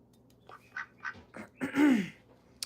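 Olivia Gray, a pet duck, lets out a series of short nasal quacks, close and fairly quiet, ending in a louder drawn-out quack.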